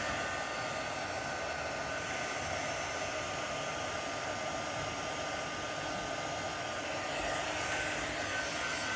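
A hair dryer blows steadily to dry chalk paste, a constant loud close whirring roar with no break and no voices.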